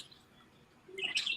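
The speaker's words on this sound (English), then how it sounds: "Ninja's listening to your birds chirping." Pet birds indoors giving a short burst of bright, close chirps near the end after a quiet stretch, with no talk over them.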